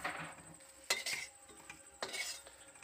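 A utensil scrapes and clinks against a frying pan as fried soybean chunks are lifted out, a few distinct metallic knocks and rattles at irregular intervals, close by with no talking.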